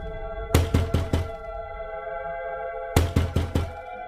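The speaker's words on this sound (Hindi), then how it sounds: "फिर वह उस घर का दरवाजा खटखटाती है।" Cartoon-style knocking on a house door at night: two clear bursts of four sharp raps each, close and loud, separated by a pause, with no talking.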